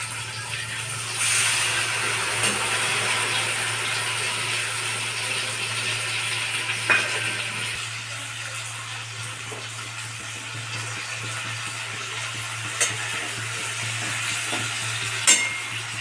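Ginger, chilli, cumin and garlic paste fries in a pan with turmeric, giving a steady close sizzle under a low hum, with occasional faint clinks of a utensil, no speech.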